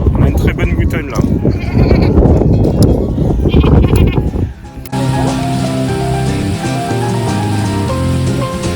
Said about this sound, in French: En concert de moutons.